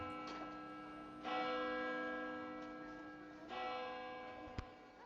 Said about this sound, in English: Bell rings in the distance.